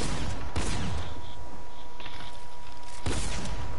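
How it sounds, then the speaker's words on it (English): Video game gunfire in bursts: a couple of sharp broadband shots early, then a sustained fusillade-like rattle and another strong shot near the end, loud against a constant noisy background. "and you shoot, edit, that's so terrible, shoot, edit"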